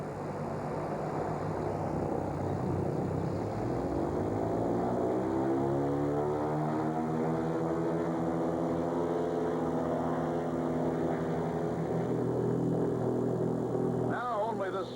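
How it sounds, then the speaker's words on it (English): Public relations blimp droning overhead, a steady low engine hum with a slow rising and falling pitch sweep as it passes, continuous and fairly loud throughout. "Public relations blimp flies over our cities."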